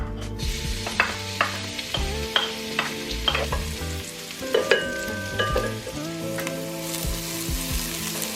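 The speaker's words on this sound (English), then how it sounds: "So I've started with some sesame oil, and now I'm going to pop in my onions," Onions, garlic and ginger fry briskly in sesame oil in a pan, a steady sizzle broken by regular clinks and scrapes of stirring with a spoon.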